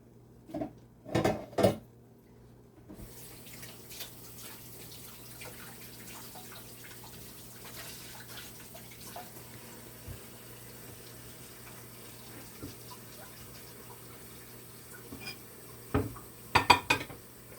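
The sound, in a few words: transferring cake out of a Bundt pan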